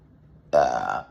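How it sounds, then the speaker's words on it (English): A person lets out a single loud, gurgling burp lasting about half a second, close to the microphone, after a moment of near silence. "excuse me, you burped too"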